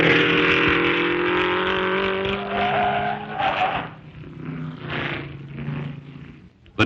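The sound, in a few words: stock-type race cars racing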